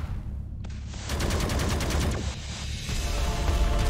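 Grenade blasts in the survival game Dysmantle, heavy booming bursts that run together with rapid crackling, loud and continuous, with no speech over them.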